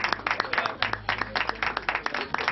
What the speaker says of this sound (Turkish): Duydunuz değil mi alkışları?